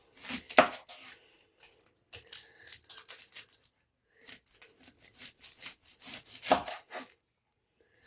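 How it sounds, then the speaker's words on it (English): A knife chopping through an onion on a wooden board, cutting off its ends: clustered, close, crisp cuts and scraping in bursts, with pauses between. "So this is how you cut an onion. Cut off both ends."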